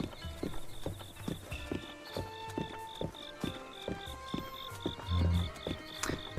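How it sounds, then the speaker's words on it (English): Donkeys clip-clop along in a Zelda Breath of the Wild village, a steady run of hoof taps at close range with a brief low thump partway through and a soft ambient tone underneath. "All these people with donkeys around."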